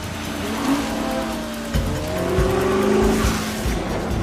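Race cars roar past at speed in a film racing scene, with a steady engine drone, tire squeal and skidding rising and falling over continuous loud noise.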